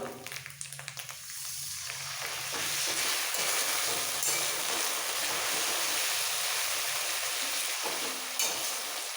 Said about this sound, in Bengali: পেঁয়াজ লাল করে ভাজা হয়ে গেছে এবার বাকি মশলা দেওয়ার আগে এর মধ্যে দিয়ে দিচ্ছি অল্প করে জল